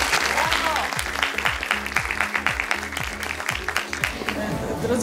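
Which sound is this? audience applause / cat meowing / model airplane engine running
audience applause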